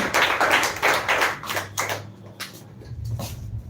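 Audience applause following a student's English speech at a school speaking competition, a burst of clapping that swells loudly for the first couple of seconds, then thins into scattered, fading claps.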